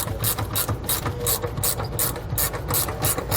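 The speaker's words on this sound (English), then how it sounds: "grab that 16mm socket and tighten it up all the way" A hand ratchet with a 16mm socket clicks in quick, rhythmic bursts while tightening a bolt on a helper spring bracket on a 2004 Workhorse chassis, close and loud with no voices.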